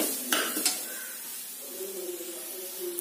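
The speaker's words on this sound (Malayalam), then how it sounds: "ഇനി ക്യാരറ്റ് നന്നായി ഒന്ന് ഇളക്കി കൊടുക്കാം." Grated carrot being stirred through ghee in a pan, with a couple of sharp utensil knocks against the pan early on and a low sizzle underneath, fairly quiet and close.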